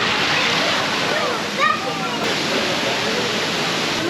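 A waterfall cascades in Bosnia, giving off a loud, unbroken roar of rushing water that fills the scene at a constant level from start to finish.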